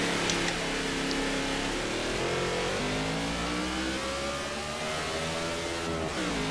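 A stock car in the NASCAR 15 racing game at Daytona, its engine droning and revving steadily at high pitch with gradual rises and falls, loud and continuous with a busy roar of track noise around it.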